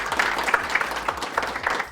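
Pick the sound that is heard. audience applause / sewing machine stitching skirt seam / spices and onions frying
audience applause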